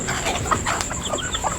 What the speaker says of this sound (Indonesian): Ini ayam betina paling tertua.